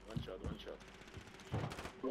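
Gunfire rings out in Call of Duty Warzone, a few sharp bursts of shots scattered across a short stretch, fairly faint and mixed with talk from players.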